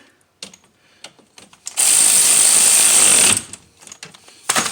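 Power tool whirring for about a second and a half while a brake hose fitting is screwed into a 2006 Dodge Caravan, framed by clicks and clanks of handling the part.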